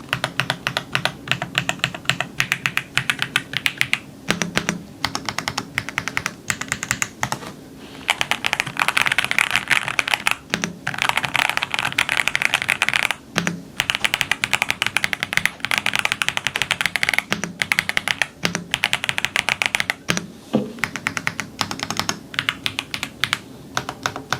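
Steady, rapid clacking of keys typed continuously up close on a wireless full-size Chilkey ND104 keyboard with quiet WS Breeze switches, with brief pauses and occasional heavier thumps, no voices.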